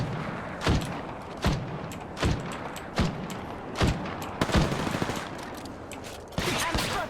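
Shots ring out in an Apex Legends match, arriving as distinct sharp cracks roughly every second with a burst of rapid fire near the end over steady background noise; no one speaks.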